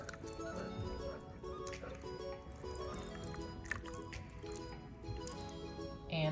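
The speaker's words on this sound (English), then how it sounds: "we're gonna mix all that together and then mix in the spice mix" Ketchup, yellow mustard and a spice mix are stirred together for homemade sloppy joe sauce, giving soft, wet squishing and sticky mixing sounds that run steadily under a low background with faint clinks.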